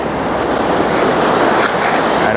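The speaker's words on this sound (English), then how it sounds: "Looks like a lot of the waves are coming up right about here." Ocean waves surge up a Maui beach in a continuous, fairly loud wash of surf that stays steady throughout, with no voices.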